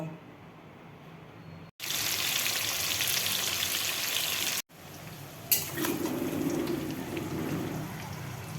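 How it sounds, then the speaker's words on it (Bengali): Potato and papaya pieces frying in hot oil for a Bengali-style mutton dish, a dense continuous sizzle that cuts out briefly twice and returns with a deeper bubbling crackle. "আলু ও পেঁপেগুলোকে লাল লাল করে ফ্রাই করা হয়ে গেছে"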